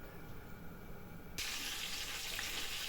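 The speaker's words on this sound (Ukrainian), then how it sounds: "обвалюємо печіночку в порошні і смажимо з двох сторон швидесенько" Oil sizzles in a hot pan after a quiet start, a sudden loud, steady hiss of flour-dredged liver frying with no voices.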